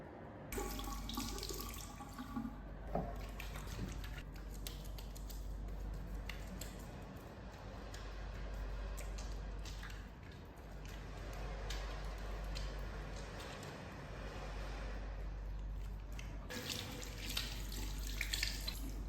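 Hands washed under a steadily running tap at a sink before a clinical childbirth-care procedure, with staff wearing protective equipment; continuous close splashing water with occasional rubbing and squishing, no talk.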